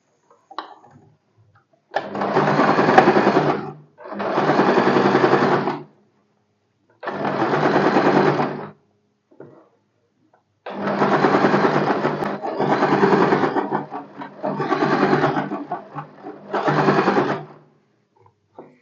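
A sewing machine stitching a lined blouse, running in several bursts of a few seconds each with short pauses between, close and fairly loud, a rapid buzzing clatter with no talk over it.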